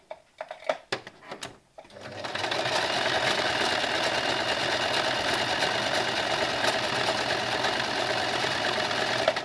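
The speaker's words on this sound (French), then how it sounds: "L'aiguille, elle avance et elle recule. Donc, c'est extensible." A sewing machine runs a stretch stitch on stretch fabric while sewing a dress. After a few handling clicks, it settles into a loud, steady, even whir that lasts to the end.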